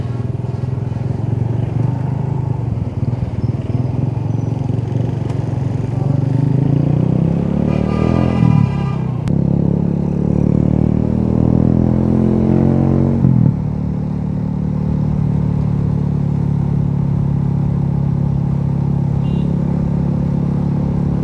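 Motorcycle riding at night through heavy road traffic, with a steady rumbling engine and dense surrounding vehicle noise, including a rising rev partway through, loud and continuous with no speech.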